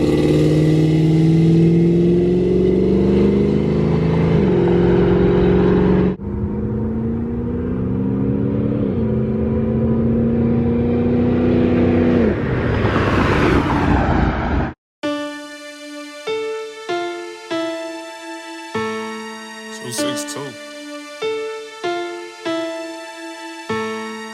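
A Chevrolet El Camino accelerates hard, its engine roaring loud and climbing through the gears, then passes by in a rising rush; afterward a rhythmic pulsing tone repeats steadily.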